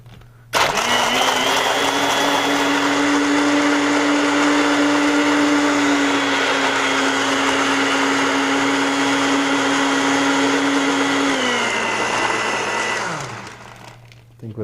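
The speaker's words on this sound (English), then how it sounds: "And then the blender will do the rest." Blender running for about twelve seconds, crushing ice for a frozen El Dorado rum cocktail, a loud steady whirring roar that starts abruptly, holds an even pitch, then winds down at the end.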